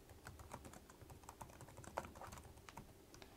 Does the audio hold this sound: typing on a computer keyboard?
yes